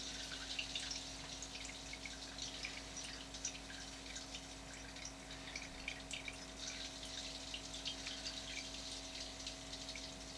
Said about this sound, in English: The pump's nice and quiet.